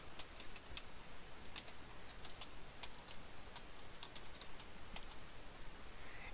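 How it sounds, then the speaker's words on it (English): A search query is typed on a computer keyboard as quick, light clicking keystrokes in uneven bursts. The room is quiet, with a faint hiss in the background. "they type in questions like, what is bariatric surgery?"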